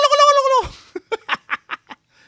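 A loud, close turkey gobble: a drawn-out call followed by a quick run of short, stuttering notes that fade away.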